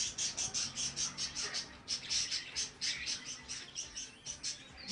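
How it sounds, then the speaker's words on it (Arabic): Bright, rapid chirps and trills of a bulbul repeat in quick bursts throughout, the songbird singing close by with a faint low hum underneath. "هذا عصفور بلبل عرب اسمه زير"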